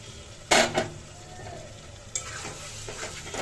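Egg frying with onions in a hot pan, with two sharp utensil scrapes and clatters against the pan as it is stirred, over a faint steady sizzle.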